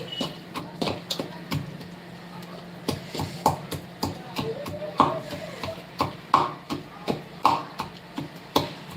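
Green chillies are pounded in a mortar and pestle for Maharashtrian thecha, giving a steady series of close, sharp thuds at a brisk, regular rhythm over a low background hum.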